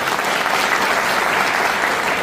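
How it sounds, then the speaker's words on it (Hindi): Audience applause welcoming a guest speaker at an agriculture and health product business presentation, a steady dense clapping that fills the room without pause. "गुरुजी का एक बार तालियों से स्वागत हो जाए"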